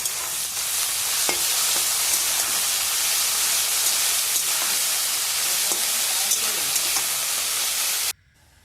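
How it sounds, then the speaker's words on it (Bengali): Onion and taro stolons frying with salt and turmeric in a pan, a steady loud broadband sizzle with faint stirring clicks, continuous and alone until it cuts off abruptly near the end. "ভালোভাবে ভেজে নিচ্ছি পেঁয়াজ আর কচুরলতাটা"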